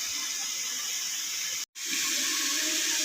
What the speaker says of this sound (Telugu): మళ్ళీ నీళ్ళు పోసాను చికెన్లో. మళ్ళీ ఇది కడిగేసి మళ్ళీ కర్రీలో వేద్దామండి